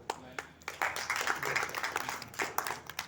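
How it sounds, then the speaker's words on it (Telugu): An audience at a book release applauds a poet with scattered, uneven clapping that swells in the middle and thins out, while a voice speaks over it. "దానికి మనం చప్పట్లు కొట్టాలి"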